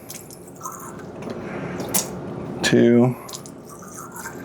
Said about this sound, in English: I don't know the last time these were rinsed, so we'll give those a quick rinse.